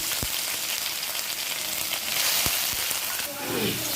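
Steady crackling sizzle of onion paste frying in hot oil, continuous and close, with a few soft knocks from a spoon.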